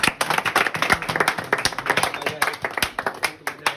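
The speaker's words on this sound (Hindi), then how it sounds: "सर के लिए एक ताली बजाइए।" A group of people claps in a classroom at a mobile phone repair training institute, giving a quick round of irregular, fairly close hand claps that fill the whole moment and fade into a few scattered final claps.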